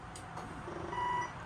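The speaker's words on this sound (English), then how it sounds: "you'll hear that beep. That beep means that it's all the way out." A travel trailer's slide-out, on a Forest River Salem FSX 165VIEWX, signals full extension with a faint electronic beep: a thin, steady tone lasting about a third of a second, low in level over quiet hum and a soft earlier click.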